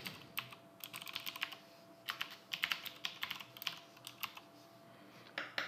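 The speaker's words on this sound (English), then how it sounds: "type in your hostname and IP address of the server." Close, quiet keystrokes on a computer keyboard come in quick bursts and short runs with brief pauses, as a hostname and IP address are typed in. A faint steady hum sits underneath.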